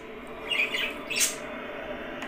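Brief harsh squawks from birds, a couple of bursts over steady background noise, fairly close.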